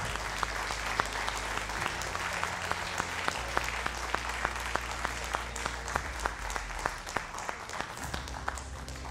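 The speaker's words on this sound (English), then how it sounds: "Big round of applause." A crowd applauds steadily, a dense wash of clapping with a few sharper individual claps standing out.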